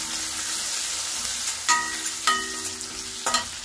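Curry leaves frying with ginger and garlic for pepper chicken, a loud close sizzle broken by three sharp stirring scrapes of a utensil against the pan, no speech.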